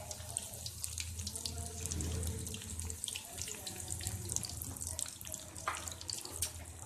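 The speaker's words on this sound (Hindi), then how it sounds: "ऑयल यहाँ पर गरम है। अब हम इसे फ्राई करेंगे।" Coated chicken drumsticks, KFC-style, fry in hot oil with a steady, fairly quiet bubbling sizzle and hiss, dotted with small crackles and a few soft clinks.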